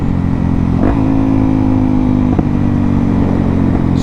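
A Suzuki DRZ400 motorcycle being ridden, its engine humming loud and close at a steady pitch, with a couple of brief shifts in tone as the revs change, over constant wind rumble and no talking.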